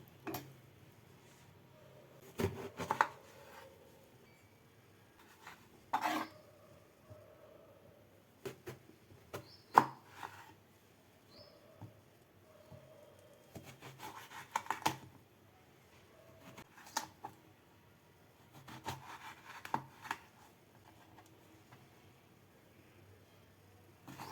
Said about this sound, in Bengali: এই বেগুনটা থেকে অর্ধেকটা বেগুন আমি কেটে নিচ্ছি